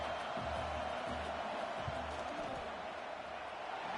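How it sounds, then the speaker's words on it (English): Stadium crowd at a college football game between Texas and Alabama during a field goal attempt, a faint, steady roar of many voices with a few scattered shouts, heard alone at a distance. "This crowd trying to do its part to get inside the kicker's head."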